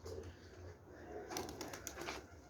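Domestic pigeons coo softly in low, rolling phrases, with some rustling and brief scuffling sounds partway through, all at modest volume.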